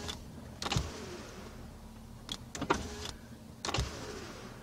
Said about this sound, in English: See how slow the windows are going?